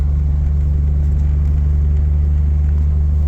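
A Jeep Comanche swapped with a Vortec 4200 engine drives along with a loud, steady, low engine drone. The rumble holds constant and close throughout, with no talking.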